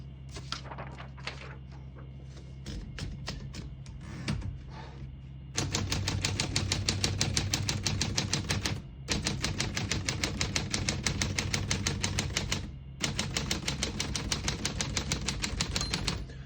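A 1948 Smith-Corona Clipper portable typewriter being typed on, with a few scattered keystrokes first and then long fast runs of crisp, close key strikes broken by short pauses.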